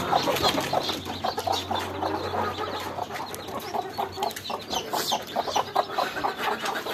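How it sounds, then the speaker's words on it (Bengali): A black hen with her newly hatched chicks in a backyard flock clucks steadily near at hand, along with busy peeping and scratching from the brood and other chickens, with no talking. "এই কালো মুরগিটা"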